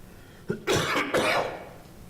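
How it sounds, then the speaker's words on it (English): A single harsh throat clearing, close and fairly loud, in two rough bursts with a short gap, over quiet room tone. "excuse me while I clear my throat"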